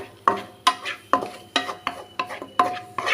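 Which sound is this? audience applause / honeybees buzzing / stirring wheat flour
stirring wheat flour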